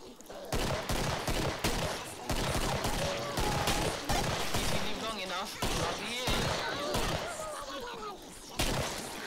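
Rapid gunfire from the video game Killing Floor, dense bursts of shots crackling continuously under a talking voice, loud and close throughout.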